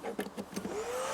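A vacuum cleaner runs off a portable power station (DJI Power 2000 or EcoFlow Delta 2 Max), a near, steady motor whine rising slightly in pitch with a few brief bumps at the start.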